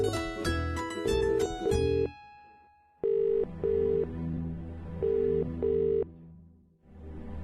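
A telephone on a Marathi TV serial sounds repeated electronic ringing tones in bursts, a pause, then more pairs of rings, clear and close with no talk.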